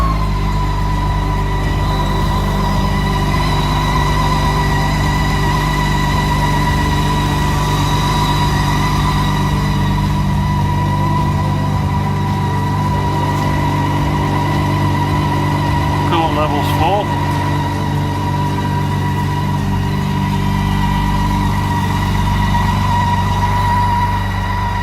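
BMW K1600 motorcycle engine running at a steady idle, a continuous even hum throughout with no clear start, joined briefly by a faint higher whine partway through.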